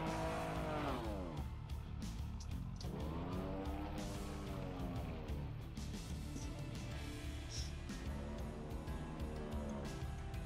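A rally car driven in Trackmania, engine revving up and down through several rising and falling sweeps with tire squeal and skidding, loud and continuous with no talking.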